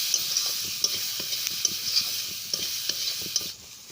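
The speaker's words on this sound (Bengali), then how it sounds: "এখন আমি মশলাটাকে ভালো করে কষিয়ে নেব।" Spice masala with black pepper powder frying in a pan for an egg potato snack, a steady close sizzle with repeated sharp scraping stirs of a spoon against the pan, fading slightly at the end.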